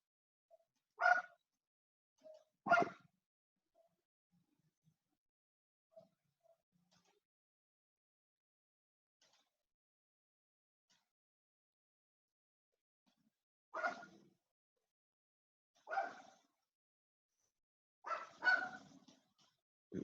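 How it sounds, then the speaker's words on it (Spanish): A dog barks in short, faint, distant bursts, scattered singly and in pairs with long quiet gaps between them. "Perro."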